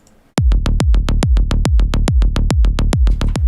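A side-trance track plays its kick drum and bass line alone, a loud, punchy four-on-the-floor thump pounding about four times a second, each hit carrying a deep bass tail, with no voices.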